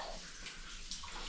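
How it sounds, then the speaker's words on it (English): Water dripping in an underground mine stope in New Zealand, faint wet patter and trickle over a low steady background, quiet and without talk. "the water that you can see dripping now"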